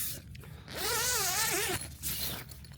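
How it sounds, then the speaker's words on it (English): Zipper on the door of an Obsidian rapid deployment tent drawn in one long steady pull lasting about a second, close and clear, between quieter handling rustles. "Zippers work flawless,"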